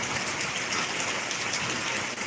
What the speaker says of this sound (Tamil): எதிர்பாராத அதிக மழை பெய்ந்திருக்கு